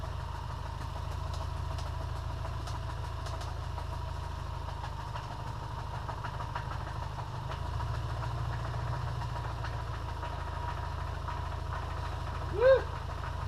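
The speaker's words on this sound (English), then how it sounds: "it's definitely knocking on the crank. That's in the crank right there." A 2001 Subaru Forester with a failing EJ25 engine idles with a low, rough drone and a faint rhythmic knock from the crankshaft, steady and close, with a brief louder sound near the end.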